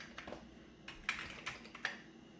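Keys pressed on a Commodore Amiga 1200 keyboard: about eight quiet, distinct plastic clicks in an uneven rhythm, close up and alone with no talk.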